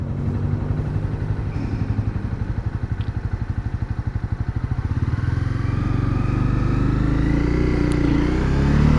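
A motorcycle, likely a BMW, rides past on a nice winter day, its engine throbbing in a steady close pulse, then fading into a broader low rumble as it moves on.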